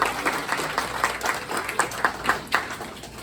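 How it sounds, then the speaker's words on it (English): A modest crowd at a First Responders Lions Club fundraiser breakfast applauds. Distinct, fairly rhythmic claps pulse through a looser bed of clapping at moderate loudness. "I need a round of applause"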